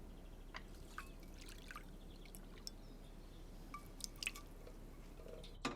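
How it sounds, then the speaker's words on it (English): A small splash of hot water poured over licorice to dissolve it for cake icing, a quiet thin trickle with a few soft drips in a calm kitchen. "Just to dissolve that, a bit of hot water."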